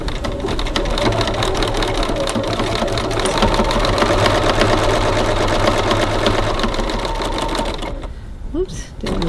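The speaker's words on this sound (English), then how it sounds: "now we're going to go over to the sewing machine and stitch" A sewing machine stitches a seam on fabric at 2.4 stitch length, a loud close rapid mechanical whirring and clatter running steadily before stopping abruptly near the end.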